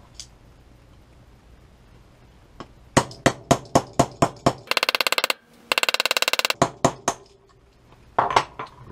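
Metal hammer strikes on a punch knock out pins from an STI 2011 pistol: a run of sharp, close, evenly spaced taps, then two rapid buzzing bursts of blows and a few final hits.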